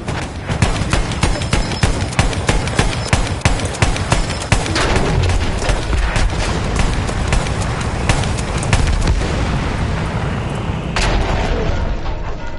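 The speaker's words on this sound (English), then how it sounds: "I can see anti-aircraft guns. Anti-aircraft guns, right there." Anti-aircraft guns fire in a video game, a steady rapid stream of sharp, loud shots that keeps going without pause over a dense, noisy battle background.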